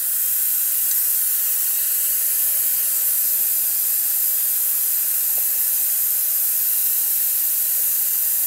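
Pressurized gas hisses steadily out of the valve on a JS205 hydraulic breaker during gas filling, a loud continuous close-up hiss that holds constant with no talk.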